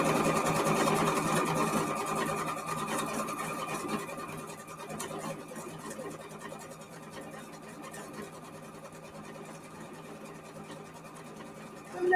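A sewing machine stitches steadily over yarn for embellishment, a close, continuous motor whir with fast mechanical rattle that softens slightly partway through.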